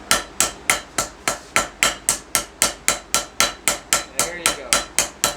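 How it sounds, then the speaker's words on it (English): A power hammer pounds hot steel in a forge shop, striking in a fast, even rhythm of roughly twenty sharp metallic blows, each ringing briefly before the next, loud and close with no talking. "hammer's going same spot, and you're moving the steel and letting the hammer do its job"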